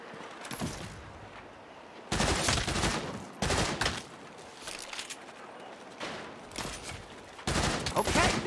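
Repeated bursts of sniper gunfire in the video game Saints Row, loud cracks arriving in clusters every second or two over a steady background din, with no talking.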